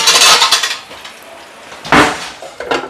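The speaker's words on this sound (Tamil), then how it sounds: "மூடி போட்டு விட்டுடலாம்" A metal lid is set onto a cooking pan in a home kitchen, giving a clattering metallic clank, then a second, single clink and a lighter tap, close and with no talk.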